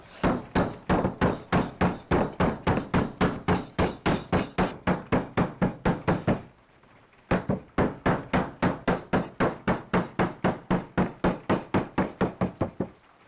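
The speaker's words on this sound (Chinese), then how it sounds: "来打做一堆平的陶板哦，所以用那个木头的锤子" A wooden mallet pounds clay into a flat slab in a pottery studio with rapid, steady, close thuds, a brief pause midway, then another run of even blows. No talking is heard.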